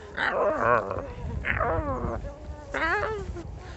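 Dog making strange struggling noises, close, with repeated strained whining and groaning vocalizations in three drawn-out bursts.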